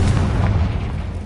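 A Confringo explosion spell goes off in the video game Hogwarts Legacy, a loud, close deep boom with a rumbling low-end tail that fades over a second or so.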